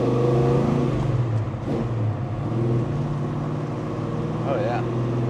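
A 1970 Chevelle SS 502 restomod drives along and shifts through its gears, giving a continuous engine drone with pitch shifts from inside the car, while voices talk over it.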